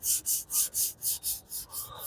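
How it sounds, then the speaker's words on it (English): A fine sandpaper block is rubbed by hand over car body filler in quick, even back-and-forth strokes, about eight rasping passes in a steady rhythm, close and clear. "we're going to sand what we've got here right quick"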